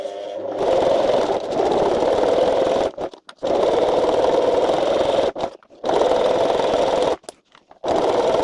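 Sewing machine stitching a seam on a homemade bikepacking bottle cover, running in several loud, close bursts of rapid whirring separated by short pauses.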